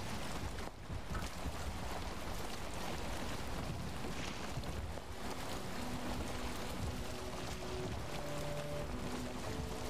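Wind gusting while sailing a boat in the video game Valheim, a dense, steady rushing noise that fills the whole stretch evenly, with soft music tones surfacing faintly toward the end.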